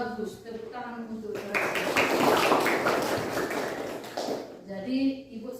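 Students in a classroom applaud a classmate. The clapping is moderate and sustained for a few seconds, with a teacher's voice heard just before and after.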